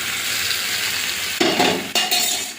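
Prawns fry and get stirred in a spice masala in a pan for a Bengali potol and potato curry, a steady sizzle with two louder scraping stirs near the end, close and without talk.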